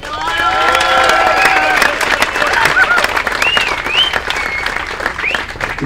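Audience applause at the 2015 German triplette championship final: dense, loud clapping with cheering and whistles, rising quickly and holding steady before thinning slightly toward the end.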